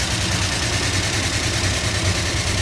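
A 383 V8 engine in a 1967 Dodge Charger idles steadily up close, a loud continuous low rumble with a lopey, rhythmic throb and mechanical clatter on top.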